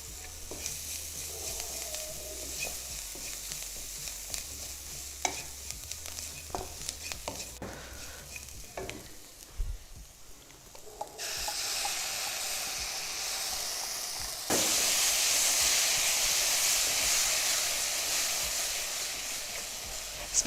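Matar paneer stirred and sizzling in a pan, with scraping stirs early on, then a steady hiss of frying that grows louder toward the end.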